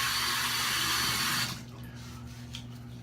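A bathroom tap runs with a steady rushing hiss while a face is rinsed during a wet shave with an EJ DE 89 safety razor, then the flow stops abruptly, leaving quiet drips and faint movement.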